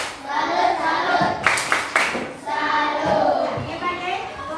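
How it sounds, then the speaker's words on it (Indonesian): A classroom of children claps for the wood group in short rhythmic bursts, a rehearsed patterned clap amid children's voices and chatter in the room. "kita tepuk tangan dulu untuk kelompok kayu"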